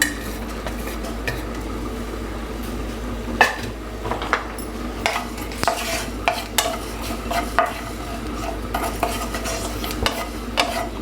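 Whole spices dry roasting in a pan for a mutton masala, stirred with a utensil: repeated scraping and clinking strokes of metal on the pan over a faint steady background, close and moderately loud, with no talking.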